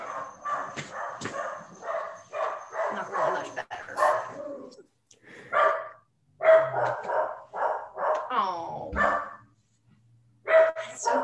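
A dog barks in rapid repeated bursts, close and loud, with short pauses between volleys and a few yips mixed in.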